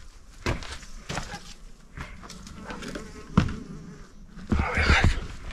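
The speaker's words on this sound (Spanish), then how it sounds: "Hay abejas." Bees buzz inside a room of an abandoned mine in Real de Catorce, San Luis Potosí, with close, fluctuating drones rising and fading over footsteps and shuffling.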